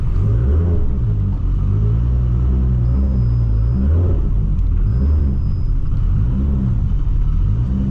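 A Nissan R34 GTR V-Spec runs with a deep, steady rumble close by, the engine note rising and falling slightly in a few gentle swells, with no talking over it.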